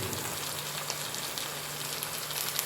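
Ginger garlic paste and curry leaves sautéing in a hot pan, a steady, even sizzle and crackle with scattered pops, continuous throughout and fairly quiet, with no voices.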